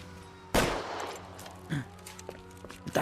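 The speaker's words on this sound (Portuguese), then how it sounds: "Ele tá atirando." Sharp gunshots in the video game L.A. Noire: one loud close shot followed by a second softer report and a few faint pops, over a quiet low hum.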